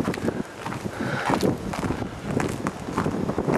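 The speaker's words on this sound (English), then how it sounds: "the snow, and you can hear the wind." Steady wind buffets and roars through a snowy residential neighborhood during the 2011 Norman, Oklahoma blizzard, a continuous loud rushing with gusty swells and faint crunching, no voices.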